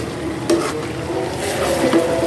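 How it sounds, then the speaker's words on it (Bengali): Meat being stirred and slowly fried in a pan, a close, continuous sizzle with soft scraping strokes from the stirring spoon. "মাংসটা মাঝে মাঝে নাড়াচাড়া করে দিতে হবে, তা না হলে নিচে ধরে যাবে"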